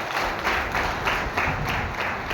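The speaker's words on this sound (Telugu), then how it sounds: "మీకోసం మీరు గట్టి క్లాప్స్ కొట్టుకోవచ్చు." An audience at a business seminar claps in a steady, dense burst of applause for about two seconds, with rhythmic swells, moderately loud and without speech over it.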